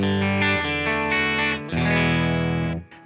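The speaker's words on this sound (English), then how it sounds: "This is the guitar and the amp on its own." An electric guitar plugged straight into an amplifier with no preamp or overdrive pedal, playing two sustained, gritty chords that ring out loudly and fade at the end, with no talking.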